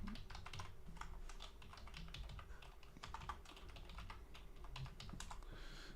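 Rapid, steady typing on a computer keyboard, dense clicking keystrokes close by with no speech, set against a faint low background hum.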